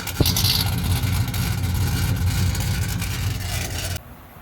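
A 1970 Pontiac LeMans 455 engine with ignition issues idles steadily with a low, even rumble for several seconds, then cuts off abruptly, leaving quiet background.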